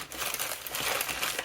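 A plastic bag of artificial nail tips crinkles continuously up close, a dense steady rustle of handled plastic for a second and a half with no talking.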